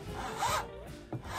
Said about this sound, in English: I'm just gonna use a fine file.